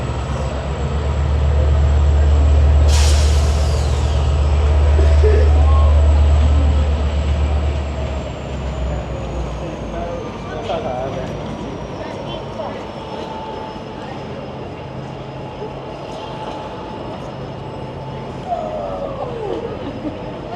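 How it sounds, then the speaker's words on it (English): A GO commuter train rolls slowly past as it pulls into Union Station, Toronto, with a heavy low rumble that gradually eases, steady wheel noise and occasional faint squeals along the rails. "Going very slow as it pulls into the station."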